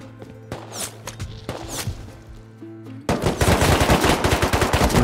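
AK rifles fire in the video game Rust: scattered single shots give way to loud, sustained rapid automatic bursts.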